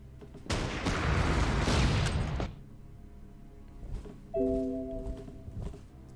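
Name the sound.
artillery fire in video game Panzer Corps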